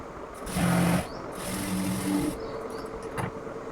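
Sewing machine stitching across a pocket to close it, two short bursts of motor whir with harmonic hum, each under a second or so, separated by a brief pause, close and fairly quiet with no talk.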